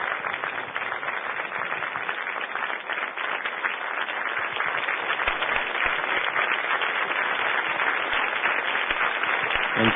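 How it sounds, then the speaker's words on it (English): Sustained, dense applause from a premiere party audience welcoming filmmakers, continuous clapping at steady loudness throughout. "Give them a round of applause."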